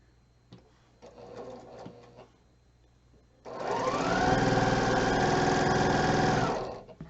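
A sewing machine stitches quilt pieces in one steady, loud run of fast rhythmic whirring for about three seconds, after a few quiet handling clicks and rustles.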